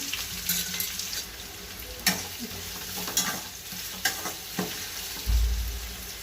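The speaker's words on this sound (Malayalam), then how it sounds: "കടുക്, ഇതിലേക്ക് ഒരു 2 സവാള അരിഞ്ഞെടുത്ത് കൊടുക്കാണ്" Chopped onions frying in coconut oil with mustard seeds for a fish curry, a steady sizzle with repeated spatula strokes scraping the pan and a low thump near the end, close up with no talk.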